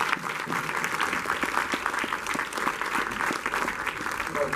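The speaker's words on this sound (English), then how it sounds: "Let's give her a round of applause." Theater audience applauding at a Q&A event, a steady, moderately distant wash of many hands clapping that continues evenly throughout.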